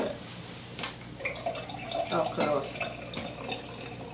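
Homemade ginger ale poured into glasses, a close liquid splashing and gurgling in short bursts, with people speaking briefly.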